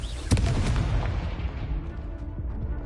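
A Confringo fire-blast spell bursts in Hogwarts Legacy, a loud booming explosion near the start that rolls into a rumbling, crackling decay over a steady low game-battle background.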